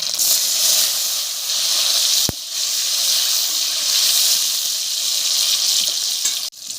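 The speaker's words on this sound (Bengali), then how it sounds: "ফোড়নে জিরে দিচ্ছি, আদা বাটা, টমেটো কুচি" Cumin seeds, ginger paste and chopped tomato hit hot oil in a kadai, producing a steady loud sizzle and hiss that continues throughout with a brief clatter midway.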